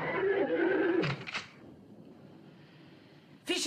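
A horse neighs loudly and close at the start, its whinny fading into a quiet background before another sharp burst of sound at the end.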